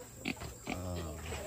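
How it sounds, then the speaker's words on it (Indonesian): A pig grunts in short, low, repeated snorts at close range, soft and rhythmic, with no one speaking. "Itu babi menua guys, babi menua celum tu."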